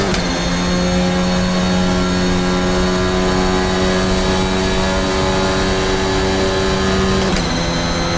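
Formula Alpha race car engine in a racing sim, running the VRC Lewis Hamilton mod. A loud, steady high-pitched drone holds throughout, then shifts pitch sharply near the end as if changing gear.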